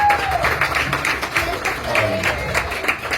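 Audience at a tribute festival gathering claps in a steady, dense burst of applause that fills the room, with faint voices mixed beneath the clapping throughout.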